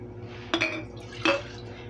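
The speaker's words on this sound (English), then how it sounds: "we're going to put the rest of our broth" Beef broth poured into a stew pot with stewed tomatoes: two short splashing, clinking bursts against a quiet kitchen background, close by.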